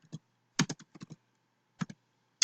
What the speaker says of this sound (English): I'm going to click on cell A9, and then I'm going to type equal to sum